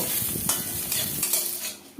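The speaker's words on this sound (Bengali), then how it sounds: "এবার বড়িগুলো ভালো করে ভেজে নেব" Urad dal lentil dumplings (bori) frying in hot mustard oil, a close, busy sizzle broken by repeated spoon stirs and light scrapes against the pan, with no one talking.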